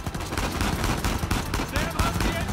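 Dense, continuous gunfire in Uncharted 4, a rapid rattle of overlapping shots at moderate volume with a voice speaking over it.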